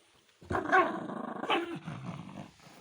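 A dog growls low and rumbling at close range, with a sharper snarling burst in the middle, no talking.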